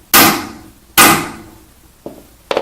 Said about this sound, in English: You'll place it in the center and carefully with the hammer hit the socket.